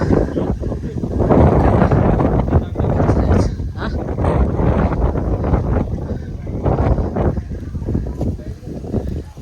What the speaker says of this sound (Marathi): हवा चालू आहे त्याच्यामुळे आवाज थोडा हवेचाच येईल